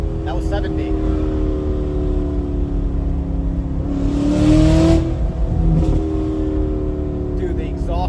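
A tuned Corvette C8's engine and exhaust roar steadily under the cabin, swelling louder midway as it accelerates through second gear, with people talking over it.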